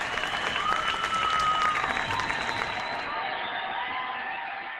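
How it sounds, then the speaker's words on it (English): Loud, dense applause mixed with screams and whoops from a crowd opens a podcast interview segment. It stays steady, then thins and fades toward the end. "those screams and applause means that it is time once again for the interview block"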